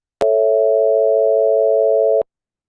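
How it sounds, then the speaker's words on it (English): Computer-synthesized major chord built from three cosine tones, a steady, loud electronic hum that starts abruptly, holds for about two seconds and cuts off cleanly with a click. "So you can hear that it sounds like a major chord."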